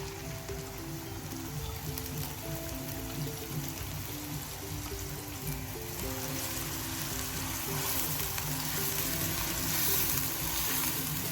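Onions sizzling and frying in hot ghee for a street-style chicken biryani, a steady dense crackle that grows slightly louder toward the end, with no voices.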